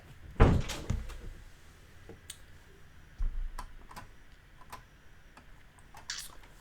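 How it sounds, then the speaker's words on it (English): A door swinging shut in a home room, a solid close thud near the start followed by softer knocks and clicks scattered over the following seconds, fairly close with no talking. "can you close the door?"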